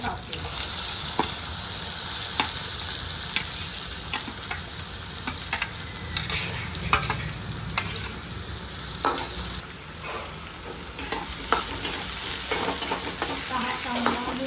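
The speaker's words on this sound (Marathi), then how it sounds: "आता आपण यामध्ये कांदा टाकूया" Finely chopped onion hits a pan with slit green chillies, frying with a dense sizzle while a spatula stirs and scrapes repeatedly throughout, close and loud with no talking.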